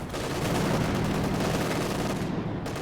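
A World War II video game battle with tank gunfire: a dense, loud barrage of rapid shots and blasts fills the whole stretch, close and continuous, with no talk.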